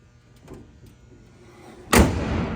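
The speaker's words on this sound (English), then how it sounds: "Hood closes nicely." After some faint shuffling, the hood of a 1970 Chevrolet Chevelle slams shut with one loud, solid thud that rings briefly.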